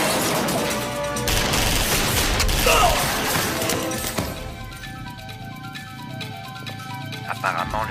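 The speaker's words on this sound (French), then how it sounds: "On dirait une fusillade." A rapid burst of gunfire crackles loudly, then gives way to scattered shots and clanking under faint voices.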